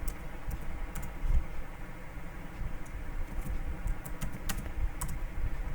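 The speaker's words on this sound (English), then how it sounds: "Without password it will not open, so I am writing my password." Someone types a password on a computer keyboard to open SQL software, a steady run of light key clicks close to the microphone over a low background hum, with no talking.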